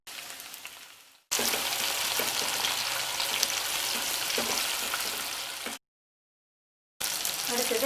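Shallots, garlic and tomato fry in a pan, a dense close sizzle with faint stirring scrapes, cut by short silent gaps near the start and toward the end.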